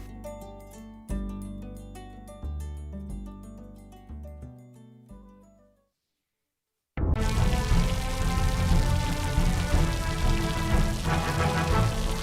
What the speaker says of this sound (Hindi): बड़वानी में मूसलाधार बारिश से पहाड़ी नदी नाले उफान पर हैं।